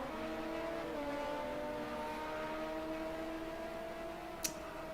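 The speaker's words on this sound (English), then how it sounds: "Now you should be able to hear the cars." LMP2 race cars in Project Cars 2 at the Nürburgring combined circuit produce a steady, droning engine whine with sustained harmonic tones, moderately loud and continuous, with one brief sharp click near the end.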